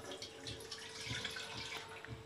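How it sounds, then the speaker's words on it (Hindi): Milk poured from a container into a pan on a gas stove, a steady close liquid trickle and splash with a faint burner hum underneath, no talking. "सबसे पहले हम गैस पे एक पैन रखेंगे, उसमें हम दूध डालेंगे"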